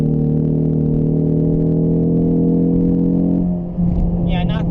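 2021 Ford Mustang EcoBoost with a 2.3-liter turbocharged four-cylinder accelerating, a steady droning engine note heard from inside the cabin that shifts tone near the end, with faint sounds over it.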